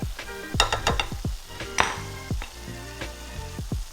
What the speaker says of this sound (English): Make sure you cook out your flour. You don't want that raw flour taste in there, so go ahead and saute it for a little bit.